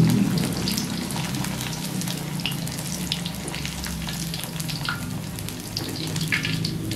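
Corn frying in boiling oil in a simple village kitchen, a dense continuous crackling sizzle with scattered popping bubbles, close and loud throughout.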